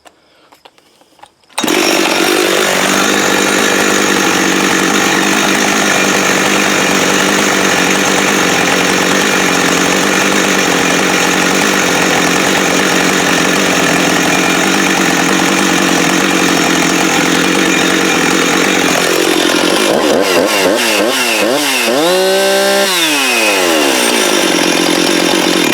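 A Husqvarna 357xp chainsaw with an idle fault starts and runs loudly and steadily up close, then revs up and down in rising and falling sweeps near the end.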